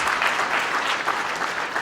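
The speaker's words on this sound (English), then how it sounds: "Please, you may clap." Audience at a book launch applauds a professor who will review the book, with a brief, dense burst of clapping that stays loud and steady throughout.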